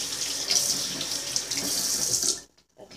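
Hot water gushes steadily from a tap into a sink for about two and a half seconds, loud and close, then cuts off, leaving near silence.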